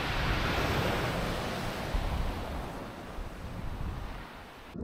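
Sea surf breaks on the shore at Étretat, a loud continuous roar of waves mixed with wind buffeting the microphone, easing slightly toward the end.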